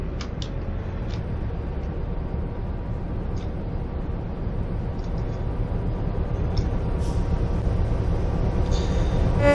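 Train in a simulator game on a suburban Glasgow Airdrie route, a steady low rumble of running wheels and motor throughout, with a few faint high clicks and a soft hiss building near the end.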